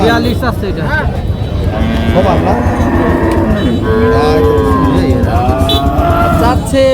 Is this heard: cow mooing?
yes